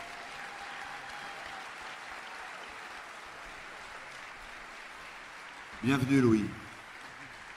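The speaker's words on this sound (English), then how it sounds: "On peut l'applaudir très fort." A Paris audience applauds warmly as a guest is invited onto the stage, a steady, even clapping lasting several seconds before a voice speaks briefly over it near the end.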